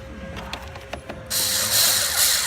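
A few sharp tool clicks come first as speaker adapter screws go into the fairing of a 2012 Harley-Davidson Road Glide. Then a loud, steady whirring hiss like a power driver starts and runs to the end.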